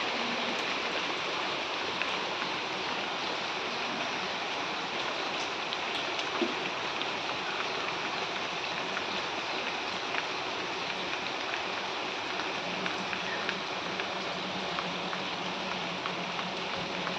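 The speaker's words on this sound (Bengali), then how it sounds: "আকাশ থেকে রিমঝিম করে বৃষ্টি পড়তেছে" Steady rain pours down outdoors on a stormy day, a dense, continuous hiss of drops falling throughout at an even, fairly loud level with no voices.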